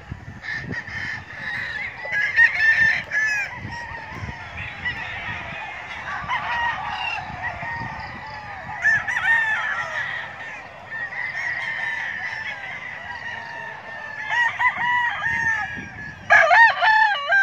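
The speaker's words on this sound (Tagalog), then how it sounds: "Yung mga alaga dito ng mga pansabong, grabe." Gamefowl roosters crowing at a game farm, several birds calling over one another in repeated overlapping crows at moderate distance, with faint background noise between calls.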